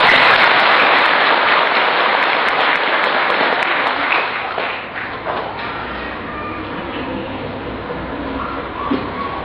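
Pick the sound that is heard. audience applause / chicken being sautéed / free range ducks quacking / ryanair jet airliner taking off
audience applause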